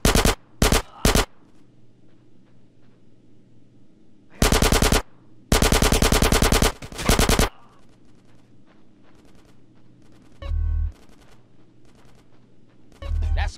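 Repeated bursts of automatic machine-gun fire in GTA San Andreas during a shootout with police, loud rapid volleys separated by quieter gaps with ambient game noise.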